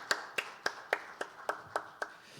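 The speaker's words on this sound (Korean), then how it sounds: "우리 하나님께 영광의 박수 올려드리십시다." Eight sharp, evenly spaced hand claps ring out clearly in a church sanctuary during a Sunday worship service, with nothing else around them.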